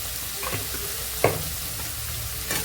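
Brinjal fries in a pan with green chillies, turmeric and salt, giving a steady sizzle broken by three spatula scrapes as it is stirred, the middle scrape the sharpest and loudest.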